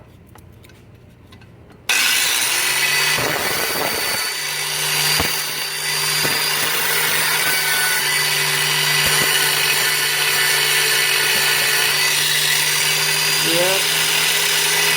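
Power grinder grinding copper off a penny for old-school stained glass work, a steady loud whine starting after a quiet opening and running continuously with small load changes, with a brief spoken word.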